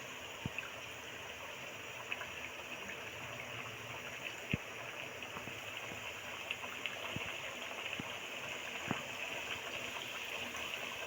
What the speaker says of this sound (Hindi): अब हम बिस्किट फ्राई करने के लिए इसमें डाल देते हैं।